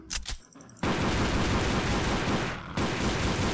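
Rapid automatic gunfire from a weapon in the video game Codename Cure, a dense sustained burst after a few short shots, with one brief pause near the end.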